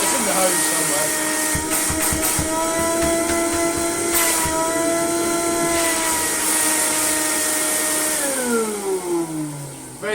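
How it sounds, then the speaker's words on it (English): A Beko1987 bench vacuum cleaner with a pneumatic hose runs steadily with a loud, constant motor whine, then winds down near the end, with a voice talking over it. "Ready to suck rubbish out of whatever horrible thing I make it suck rubbish out of."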